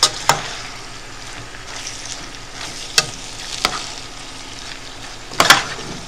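Canned Rotel tomatoes and green chilies are stirred into a warm dip with a spoon, making soft wet squelching under a low background hiss, punctuated by several sharp clacks of the utensil against the pot.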